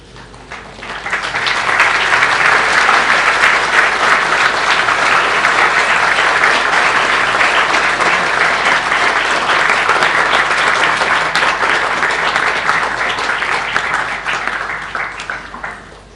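An audience at a spiritual festival breaks into sustained applause, a dense, steady wash of many hands clapping that swells within a second and holds loudly for about thirteen seconds before fading.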